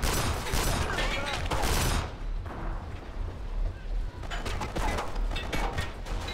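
Enemy gunfire in the video game Kane and Lynch 2, dense rattling bursts of shots filling the first two seconds and returning after a brief lull, loud and continuous with game effects underneath.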